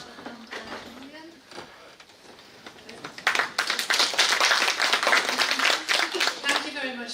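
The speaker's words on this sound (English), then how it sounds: "So if you just stand up and get a clap, please, Abraham and Lillian." An audience at an international women's economic empowerment conference claps for two primary school head teachers, the applause swelling into steady, fairly close clapping after a brief spoken introduction.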